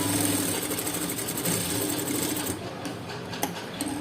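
A sewing machine runs a steady, continuous stitch along a seam of a halter neck blouse, its rapid mechanical whir close and even throughout with no talking.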